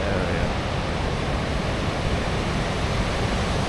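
A vast glacier-fed waterfall in Iceland roars as a steady, loud, dense rush of water that fills the whole clip without a break.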